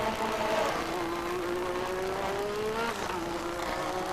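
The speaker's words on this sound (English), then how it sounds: "we have Alain Prost overtaking Senna," 1985 Formula 1 race cars racing and overtaking, a continuous high engine whine with pitch shifting as cars pass, moderately loud with no talking.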